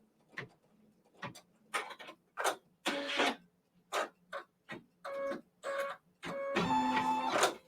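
An embroidery machine stitches a quilt block at 700 stitches per minute, producing close, clattering bursts of mechanical whirring separated by short pauses, ending in a longer continuous run.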